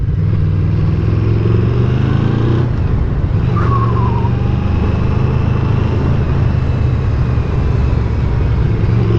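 Yamaha VMax 1700 motorcycle, about 200 horsepower, on the road. A loud, constant engine drone with riding wind goes on throughout, with subtle pitch shifts and a brief higher whine partway through, and no speech.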